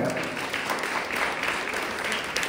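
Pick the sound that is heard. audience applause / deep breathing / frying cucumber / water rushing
audience applause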